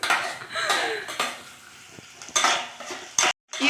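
Onions frying in a pan while a spoon stirs them, for a tomato curry: repeated scraping and clinking strokes over a soft sizzle, close and fairly quiet, with a brief dropout near the end.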